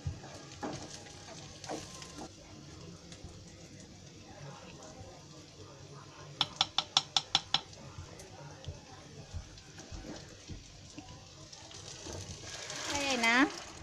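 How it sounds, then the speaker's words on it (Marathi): Dal poured into a pan of hot tempering seasoned with chili powder and turmeric, then stirred: a steady low sizzle with a quick run of sharp metallic spoon clicks midway and a hiss that swells near the end. "आता ही डाळ आहे ना त्याच्यामध्ये फोडणीला द्यायची"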